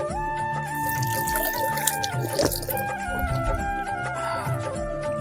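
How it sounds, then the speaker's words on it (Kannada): Water flowing steadily from the Namada Chilume spring at a historic holy site, with a soft trickling and dripping close by over a sustained tonal hum in the background. "ಅಲ್ಲಿಂದ ನೀರು ಹೋಗ್ತಾ ಇದೆ"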